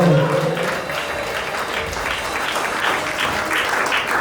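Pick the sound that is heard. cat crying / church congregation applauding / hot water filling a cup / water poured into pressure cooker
church congregation applauding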